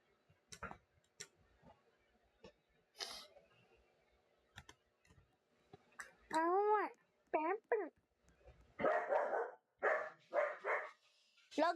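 A dog barks in several short bursts, close and loud, mixed with clicking and tapping sounds and a person talking.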